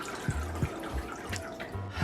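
Water trickling and dripping into a bowl of miso dressing made with miso paste, lemon, grated ginger and minced garlic; quiet, close pouring with small splashy drips and no talk.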